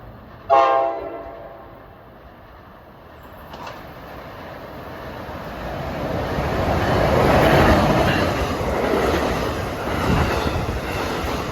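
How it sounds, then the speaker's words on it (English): NJ Transit-style commuter train 6431 from New York to Gladstone at Mountain Station sounds a short horn blast and a second brief toot, then rumbles past with rising wheel and car noise that swells and lingers. "at 5:50 this should be 6431, the New York Gladstone train."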